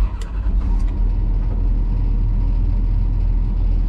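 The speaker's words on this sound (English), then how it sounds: "Engine is running." A John Deere 215 excavator engine running after starting, a loud, steady low rumble close by with no talking.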